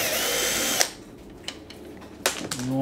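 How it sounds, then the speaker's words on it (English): A power drill spins out screws from a Samsung dryer with a loud whine that stops abruptly. A few faint clicks and taps follow, then a short second burst of drilling starts up near the end. "You need to remove the two screws here,"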